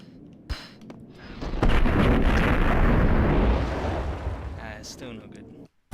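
A grenade explodes in the game Max Payne, a loud sustained rumbling blast with crackling debris that swells and slowly fades over several seconds after a brief sharp pop.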